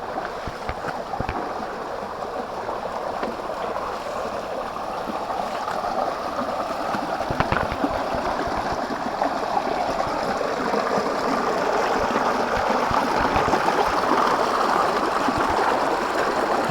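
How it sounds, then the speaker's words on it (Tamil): Floodwater rushes over a stream at the Thottipparai waterfall in Odugathur, Tamil Nadu, a dense, steady roar close by that swells slightly over time, with no voices above it. "சரியான தண்ணி வந்துருக்குங்க வெள்ளம் வர சொல்ல."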